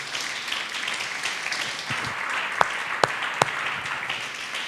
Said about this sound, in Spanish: ¿por qué no le damos un fuerte aplauso al Señor Jesús?